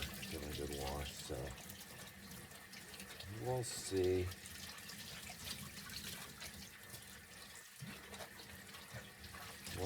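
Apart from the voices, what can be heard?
tap water rinsing ice-dyed corduroy pants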